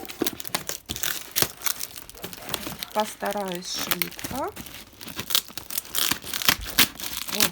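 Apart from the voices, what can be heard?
unpacking parcel, tearing packaging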